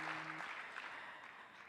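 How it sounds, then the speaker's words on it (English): Audience applause at a startup demo day, a brief, fairly faint patter of many hands clapping that carries on steadily with no voices. "You can clap, please."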